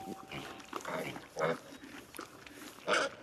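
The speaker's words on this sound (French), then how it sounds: "dis-moi quel petit cochon choisir" Piglets oinking and grunting nearby in short, rough bursts, with a couple of louder squealing grunts at moderate volume over a quiet, noisy background.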